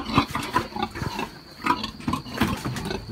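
Piglets squeal in short, busy bursts on a pig farm at farrowing time, a dense chorus of overlapping high squeals and grunts, close and steady, with no talk.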